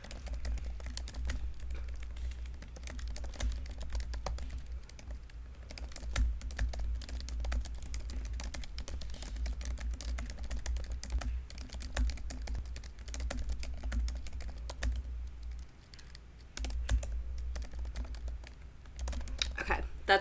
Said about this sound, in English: Living for the typing ASMR.